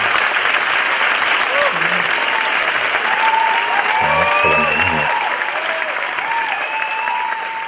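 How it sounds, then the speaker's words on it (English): Sustained audience applause at a live event, loud and steady throughout, with a voice speaking briefly over it midway. "the applause is for him, not for us."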